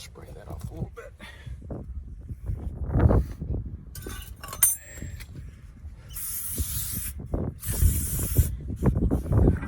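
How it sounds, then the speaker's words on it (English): Brake parts on a Ford F-150 get sprayed off with an aerosol cleaner in short hissing bursts, mixed with metallic clinks of tools and parts and someone talking nearby. "let me just spray that off a little bit."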